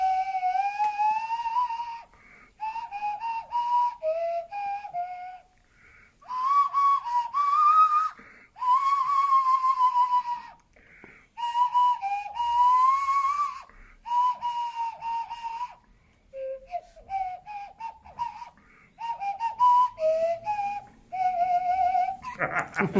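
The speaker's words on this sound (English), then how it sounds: "It's a nose flute actually. What happens is you get the air through there and you form the sounds with your mouth through here." Nose flute, a claritone or humanitone blown through the nose and shaped by the mouth, plays a bright, breathy, whistle-like melody of short phrases and sliding notes, close and fairly loud, with a faint voice briefly under the end.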